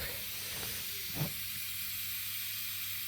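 A steady, close hiss of air escaping from a radiator bleed valve runs throughout, with a brief faint sputter in the middle; no voices.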